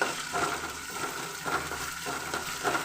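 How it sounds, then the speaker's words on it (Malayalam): Chopped shallots, ginger and garlic frying in hot oil for a rasam, giving a steady close hiss with soft crackling that swells and eases in gentle waves, with no talk. "ഇത് ഇത്രയും കൂടെ എണ്ണയിൽ കിടന്നങ്ങ് മൂക്കണം"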